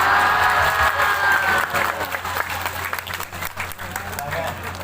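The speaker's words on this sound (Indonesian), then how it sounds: "Berikan tepuk tangan, boleh." Applause from the audience at an Islamic tabligh akbar gathering in Zhongli, Taiwan, loud at first and then thinning into a scattered crowd clatter, with a faint tonal voice or feedback under the opening seconds.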